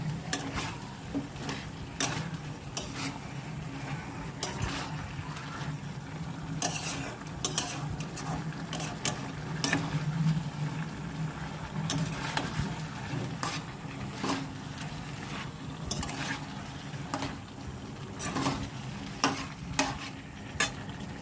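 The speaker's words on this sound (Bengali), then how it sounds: "আমি একটু নেড়ে ছেড়ে ভালো করে কষবো এটাকে।" Food in a pan being stirred and fried: a spatula scrapes and knocks against the pan again and again over a steady low sizzle, close and fairly loud, with no talking.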